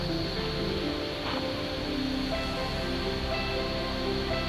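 A distant waterfall at Ghatsila gives a steady broadband rush of falling water, constant and moderately loud with no talk.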